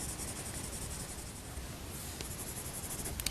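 A coloured pencil moves lightly across paper, shading pale skin tones on a portrait. The scratchy rasp is soft and continuous and close, with a few faint ticks near the end and no voices.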